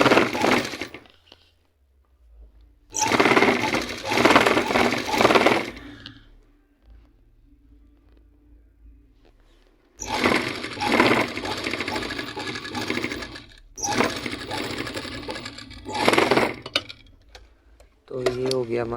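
Sewing machine running in two bursts while stitching the foot seam of a band kameez, a steady near whir that stops, sits through a quiet pause, then resumes for several seconds with brief halts.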